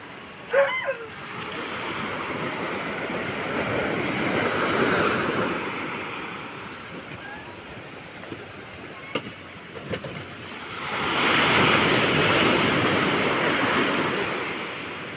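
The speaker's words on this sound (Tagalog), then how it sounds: "Pero malalaki pa rin ang pagsak ng alon dito sa tapat namin." Large ocean waves surging and washing at sea off the Pacific in strong northeast monsoon wind, two broad swells of rushing noise with faint knocks between, no talk.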